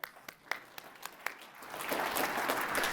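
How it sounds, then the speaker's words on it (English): An audience at a retirement celebration starts with a few scattered claps. The clapping quickly grows into full, steady applause that stays fairly soft and distant in the room. "give her a round of applause"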